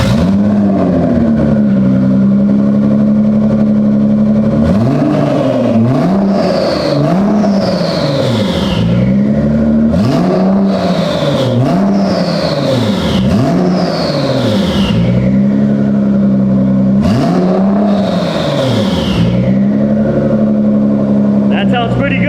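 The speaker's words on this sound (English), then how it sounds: "if you've ever wondered what a GTR with catless downpipes and no exhaust sounds like" A Nissan GT-R with catless downpipes and no exhaust revs hard repeatedly, loud and close, each rev climbing and dropping back with sharp whooshes of turbo blow-off between pulls, while a voice talks over parts of it.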